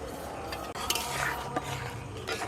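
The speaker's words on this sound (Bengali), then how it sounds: "এইভাবে চামচ দিয়ে একটু গুলে নিতে হবে" A spoon stirs agar agar powder into water in a bowl, giving a few scraping clinks against the side over a steady background hiss, moderately loud and close.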